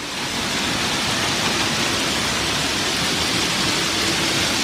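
Heavy rain shower with hail pounding down during a storm in Amman, Jordan, a loud, continuous broadband roar with no breaks and no voices.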